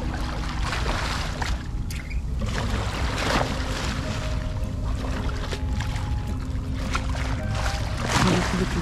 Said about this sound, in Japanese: いいよね波の音って。